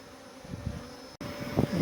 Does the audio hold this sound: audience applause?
no